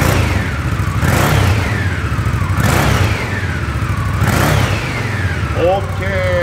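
A motorcycle engine, a limited 100th-anniversary model, is started and revved with the clutch left alone: rising and falling engine sweeps close by, under people talking.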